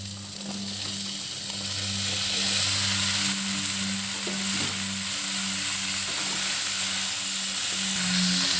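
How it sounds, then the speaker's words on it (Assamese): Chopped taro and tomato fry and are stirred in a pan of oil with coriander powder and Kashmiri red chilli, a steady close sizzle with occasional scraping strokes over a low hum throughout. "এতিয়া মই ধুনীয়াকৈ কচু আৰু বিলাহীখিনি লৰাই মেলি ভাজি লওঁ"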